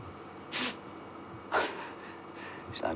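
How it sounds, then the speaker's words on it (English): A female leopard named Karula sneezes on a sunset safari in the Sabi Sand, giving three short sharp bursts spaced about a second apart over quiet outdoor background. "Sneezing."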